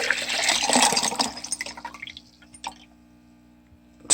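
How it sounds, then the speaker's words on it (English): Liquid contents are dumped into a container while making orgonite, giving a burst of splashing and pouring that tapers into a few drips before near silence. "we'll dump our contents, if I can do this with one hand"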